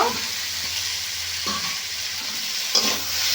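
Potatoes and carrots frying in a pan in a home kitchen, a steady hiss of oil with a few scraping stirs of a spatula, close and alone without talk.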